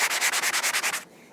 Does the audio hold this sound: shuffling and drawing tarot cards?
no